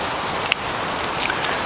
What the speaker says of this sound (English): So hopefully that rain stays light.